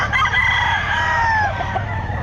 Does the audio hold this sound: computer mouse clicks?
no